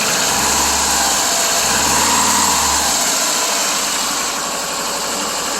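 The engine of a 2001 Subaru Legacy that runs rough and overheats after an upper hose replacement holds a steady 1500 RPM, a loud, close, continuous hum with a low vibration that fades partway through.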